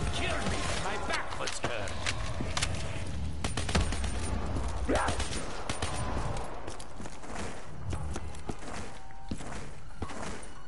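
Gunfire against zombies on the Gorod map of a video game: sharp bursts and rattling shots scattered throughout, mixed with footsteps, mechanical clicks and creaks, fairly loud and busy.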